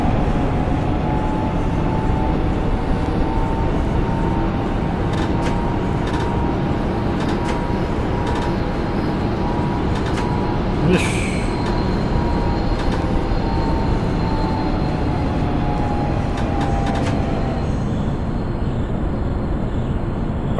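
A train pulling into a station in the HMMSIM 2 railway simulator game, a steady loud rolling rumble with a sustained mechanical hum and brief squeals, running continuously without talk.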